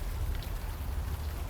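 Steady rain falls in the video game Unavowed, a soft continuous hiss with a low rumbling undertone and no clear individual drops, quiet and even throughout.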